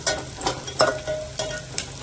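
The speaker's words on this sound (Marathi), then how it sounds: "ते छान लाल होऊ द्यायचं कांदा लाल झाला मग भाजून करणार" Onions sizzle in a pan while a utensil stirs them in short bursts of scraping and clatter, fairly close.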